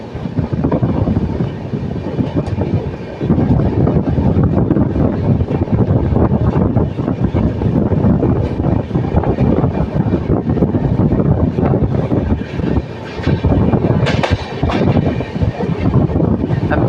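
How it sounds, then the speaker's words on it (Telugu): Visakhapatnam–Mahabubnagar Express passenger train running along the track, heard from inside as a loud, steady rumble and roar with rattling and clatter throughout. "ట్రైన్ అంత లేట్గా నడుస్తుందో చూడండి మరి."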